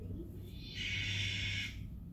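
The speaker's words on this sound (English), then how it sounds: "a barn owl." A barn owl gives one harsh, hissing screech lasting about a second, loud over a steady low rumble of background noise.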